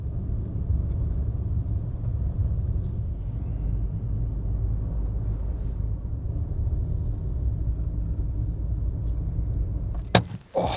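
A car drives along a coastal road in Iceland, its steady low engine and tyre rumble holding constant for about ten seconds before a brief clunk and a shift near the end.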